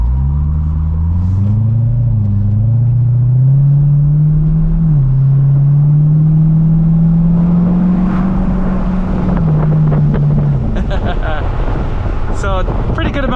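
A 2012 Corvette C6 Grand Sport 4LT Centennial Edition with its LS3 V8 drives with the top off, the engine drone rising and settling loudly under heavy buffeting wind, with rattling clicks near the end.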